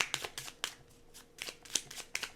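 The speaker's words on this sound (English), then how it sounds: "One more shuffle" Tarot cards shuffled by hand, close and fairly quiet, in a run of crisp, papery riffles and slaps that come in quick irregular bursts with short pauses between.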